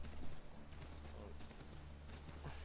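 Horse hooves clip-clopping during riding in the video game Assassin's Creed 3, a steady rhythmic trot over a low rumbling game backdrop, moderately loud and continuous.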